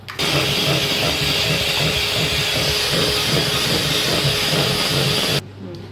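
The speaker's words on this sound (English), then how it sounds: "I'm going to mix it with a high speed on the mixer" Electric stand mixer whipping vanilla cake batter tinted with green food colouring at high speed, a loud steady whirring hum with a gritty rattle that runs unbroken before stopping abruptly near the end.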